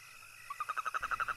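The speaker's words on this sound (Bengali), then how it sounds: "হঠাৎ হঠাৎ ব্যাঙ ডাকছে।" Frogs croaking on a moonlit night along a village road, a quick run of about ten evenly spaced, rhythmic croaks, faint and alone against quiet night air.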